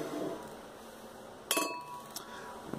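Glass being picked up for pouring beer: a sharp clink of glass against a hard surface around the middle, then a lighter tap, over quiet room noise.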